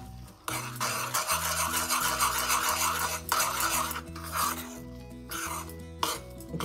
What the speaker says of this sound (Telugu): కొద్దిగా మైదా పిండి వేసి నేను ఒక పేస్ట్ లాగా తయారు చేసుకుంటాను.